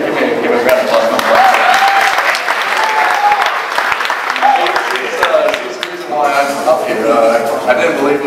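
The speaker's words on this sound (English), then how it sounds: "So give me a round of applause." Loud, sustained audience applause at an Atlanta event, a dense wash of clapping from a crowd that continues throughout while voices and cheers rise over it toward the end.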